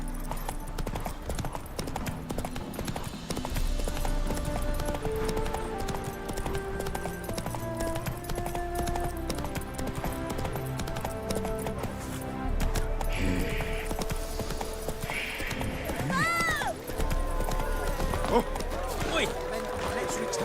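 Roach, a horse in Witcher 3, gallops with steady rhythmic hoofbeats that run continuously under game music and voices, with a brief neigh near the end.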